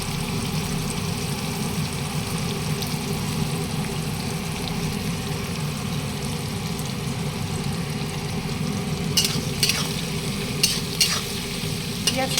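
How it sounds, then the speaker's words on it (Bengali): Onion frying in a pan with cinnamon and cardamom, a steady broadband sizzle running throughout, with a few sharper scraping stirs near the end and no talking. "পেঁয়াজটা একটু ভাজা ভাজা হয়ে যাবে"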